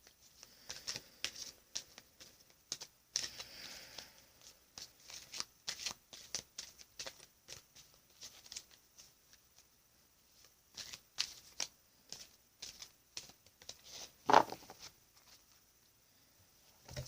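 A Sacred Rebels Oracle card deck shuffled by hand, soft close riffling and patting in irregular bursts with short pauses, quiet and without talk.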